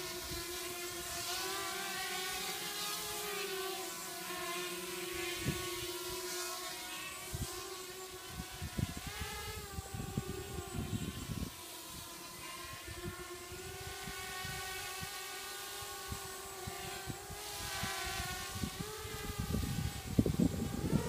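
QAV250 FPV quadcopter with EMax 1806 2280kv motors and Mystery 12A ESCs in flight on a windy day: a steady, close, high-pitched motor whine that rises and falls as the throttle shifts, continuous throughout.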